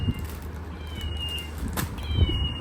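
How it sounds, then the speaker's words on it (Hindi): A soft cat meow, quiet and a little distant, rising over a low steady background hum. "बिल्ली की आवाज।"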